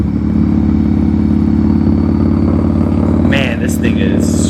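A 1993 Harley-Davidson Softail motorcycle engine running loud and steady at close range with a deep throbbing rumble, wind and road noise over it and a brief higher sound near the end.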